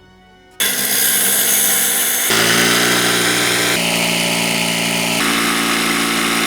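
A power tool cuts furniture panels for a living-room makeover, starting abruptly after a quiet moment and running loud and steady, with its pitch shifting in stages as each cut progresses.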